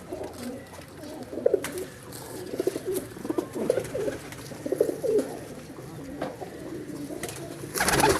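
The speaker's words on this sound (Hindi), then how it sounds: "ये कबूतर है" Pakistani flying pigeons in a rooftop loft coo in repeated, throaty, rolling bursts close by, with faint background noise between the calls.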